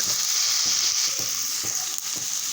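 Masala for a paneer curry frying in oil, a steady close hiss of sizzling with faint stirring underneath, brief and continuous with no talking.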